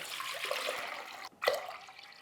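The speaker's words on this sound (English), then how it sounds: "I'm gonna start with a couple quarts of water." Water pours for a pastrami brine, a splashing, trickling stream with a brief break and then a renewed gush, close and moderately quiet.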